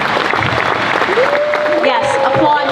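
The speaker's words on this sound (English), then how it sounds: "Yes, applaud him." An audience applauds steadily under a speaker's loud, close voice, the clapping a continuous rattle beneath the talking.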